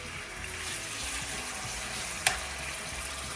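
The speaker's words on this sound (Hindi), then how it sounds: "पैन में मैंने ऑयल डाल लिया है, ये आप देख लीजिए। और अब मैं इसको जो हूँ इसमें फ्राई कर लेते हैं।" Ingredients frying in oil in a pan, a steady broadband sizzle that holds evenly throughout, with one brief sharper crackle near the end.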